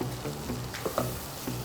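Ingredients sauté in melted margarine for a nasi briyani, giving a steady soft sizzle with a few brief stirring scrapes, close and moderately quiet, with no talking.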